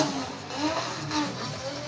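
A Toyota Supra drift car engine drones at Ebisu Circuit West Course in Fukushima during drift qualifying, a steady buzzing roar with rising and falling revs, heard from a moderate distance.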